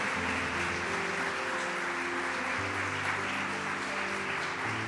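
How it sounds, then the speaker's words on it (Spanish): A church congregation applauds during a sermon, sustained dense clapping at a steady loud level throughout, with a held tonal hum, likely keyboard or music, running beneath the clapping. "¿Cuánto le dan un aplauso a Jesús?"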